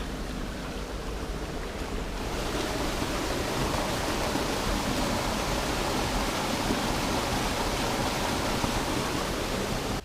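Water from an outdoor water feature beside a hillside street with boulders and an oak tree runs in a steady, broadband rush that stays loud and even throughout, with no voices.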